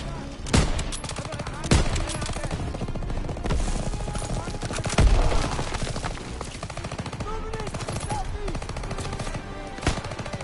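Sustained machine-gun bursts and scattered gunfire fill a Call of Duty WWII battlefield, with a few sharper, louder shots punching through the continuous rattle for the full duration; a voice is briefly heard amid the firing.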